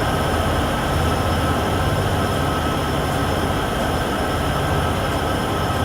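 Train Sim World 6 freight locomotives hauling a grain train up a 1.5% grade, a loud continuous rumble of engines and rolling wagons with a steady high whine above it, unbroken throughout; no talking.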